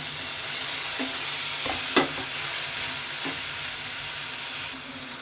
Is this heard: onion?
yes